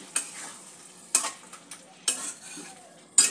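Papaya curry with poppy seeds simmering in a pan, a soft low bubbling punctuated by four sharp clinks of a utensil against the pan at regular intervals.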